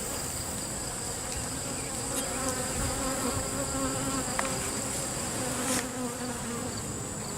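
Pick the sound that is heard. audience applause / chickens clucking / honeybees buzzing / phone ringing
honeybees buzzing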